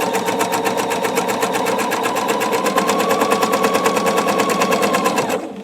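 Sewing machine chain-piecing quilt fabric squares for a pinwheel block, running in a fast, even rapid-fire stitching rhythm close by for about five seconds before stopping abruptly.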